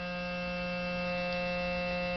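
A ClariSonic Pro facial cleansing brush head vibrates with a steady, even electric hum, close and unbroken throughout with no voices.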